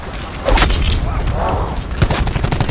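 Rapid gunfire from a weapon in a PS4 video game crackles in dense, loud bursts, with voices talking over the shots.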